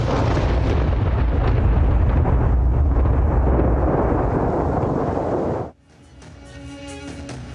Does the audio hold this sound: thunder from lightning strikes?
yes